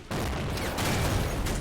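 Gunfire from a Men of War: Assault Squad battle on the Rhine, a dense, rumbling burst of overlapping shots at moderate volume that holds steady for a moment.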